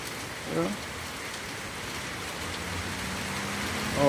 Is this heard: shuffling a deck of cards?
no